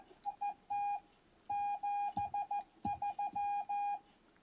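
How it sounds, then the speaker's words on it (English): A Morse code (CW) signal on amateur radio: a clear, mid-pitched keyed tone beeping out irregular dots and dashes over faint background static, with no talking. "I hear some CW"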